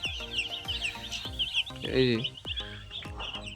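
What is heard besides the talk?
broiler chickens clucking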